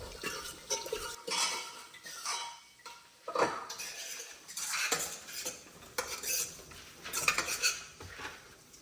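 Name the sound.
mashing boiled lentils with a spoon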